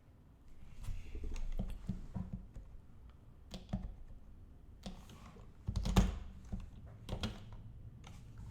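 Computer keyboard typing during a programming session, steady clusters of keystrokes and clicks at close range with uneven rhythm, no talking.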